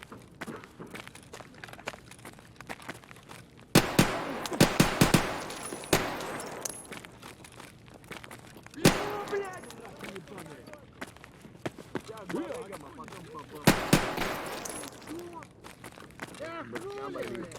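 Gunfire in the video game Escape From Tarkov, several loud sharp shots and short bursts standing out among footsteps and gear rattle, with someone talking over the action.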